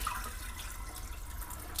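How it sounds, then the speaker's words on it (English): Cloudy rice rinse water poured from a bowl into a kitchen sink, a steady splashing stream running throughout, close and moderately loud. "I'm going to pour it off carefully in my sink."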